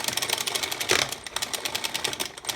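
A Singer knitting machine being cranked, its slipping clutch giving a quick run of light mechanical ticks and clicks with one louder clunk near the middle, close and fairly steady throughout.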